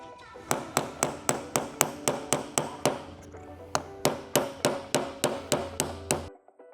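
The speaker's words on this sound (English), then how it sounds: "We need to hammer this roll pin out" Steady, rapid metallic hammer blows ring out close by as a roll pin is driven out of a GM axle differential carrier, about three strikes per second, continuing evenly for several seconds before stopping abruptly.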